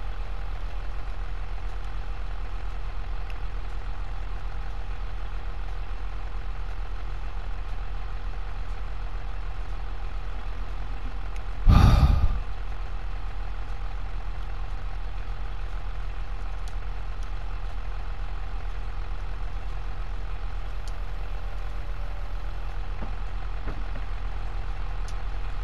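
A tractor engine idles in Farming Simulator 22 as a steady low rumble throughout, with a single short thump near the middle and no talking.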